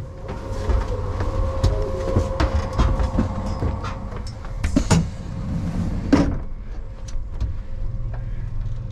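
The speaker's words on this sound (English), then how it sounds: "tonight will be aboard this 320 km an hour or 199 mile an hour capable TGV Euro duplex set" A TGV Euro duplex high-speed train, capable of 320 km/h, rolls along with a steady low rumble and a few sharp clicks and clatters from the track, heard from aboard in first class with no talking.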